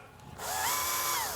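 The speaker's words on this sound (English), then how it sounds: "Just need to drill out those holes so we can fit our LEDs in there." Power drill boring holes through the plastic shell of a Fallout Pip-Boy 2000 Mk VI prop to fit LEDs, starting after a brief quiet moment, then a steady loud whine with rising and falling pitch as the bit cuts through.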